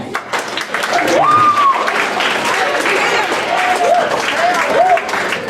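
Middle school assembly crowd applauding loudly and steadily, dense clapping filling the hall alongside cheers and whoops from students.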